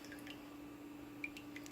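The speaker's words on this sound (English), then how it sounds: "You see that dripping?" Goldenrod oil drips in a quiet indoor setting, a few faint, sharp, high plinks scattered over a steady low hum, with no talk.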